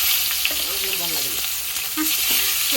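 Food frying in a pan and being flipped with a fork, a loud continuous sizzle up close with faint scraping and tapping, and a quiet voice briefly murmuring underneath.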